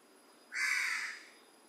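A single crow caw rings out once, clear and fairly close, lasting about half a second over faint background quiet.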